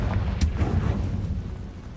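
A Confringo fire spell explodes in the Hogwarts Legacy video game, a sharp burst at the start trailing off into a rumbling low roar with no talk.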